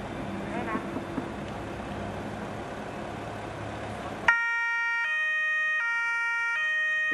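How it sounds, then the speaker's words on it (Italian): Police patrol car sirens start abruptly partway through after a murmuring crowd background, then sound loud and near as a steady two-tone wail alternating in a regular pattern. "tra il suono delle sirene delle auto della sezione volanti"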